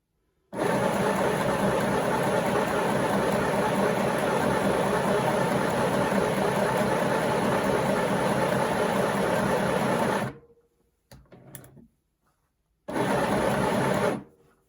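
A Midi sewing machine stitches fabric in a long, loud, continuous mechanical whir, stops with a few brief clicks, then starts running again for a short burst.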